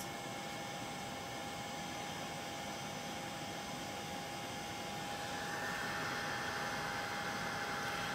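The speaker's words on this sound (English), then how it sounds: "So I'm just going to get my heat tool out." A Ranger heat tool for heat embossing blows hot air in a steady, fairly quiet whooshing hiss with a faint whine, running continuously and alone.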